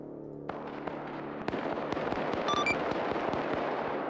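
Video game firefight with rapid crackling gunfire and scattered sharp pops, dense bursts at mid distance that grow busier toward the end, no voices.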